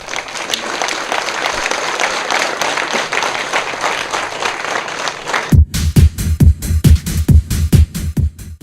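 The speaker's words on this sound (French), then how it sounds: "acclamation" Enthusiastic audience applause at a Bénin school awards day, dense steady clapping for several seconds, then breaking into loud rhythmic clapping in unison, near and full.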